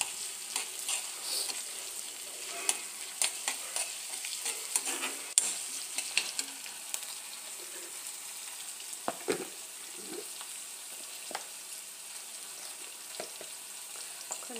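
Chopped onions and ginger sizzle steadily in a pan for a capsicum curry, with a spoon repeatedly scraping and stirring through the continuous frying hiss, no voices.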